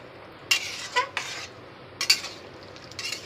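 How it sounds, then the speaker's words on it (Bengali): Ridge gourd and shrimp cooking in a pan are stirred with a utensil, giving a few light scraping clinks against the pan over a faint background hiss, with no talking. "দেখো এটা একটু নাড়িয়ে নিলাম"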